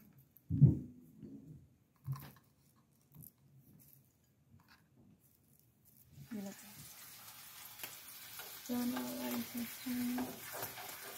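A few soft knocks, then a steady sizzle of cheese frying in a pan starts and continues, with a voice briefly over it.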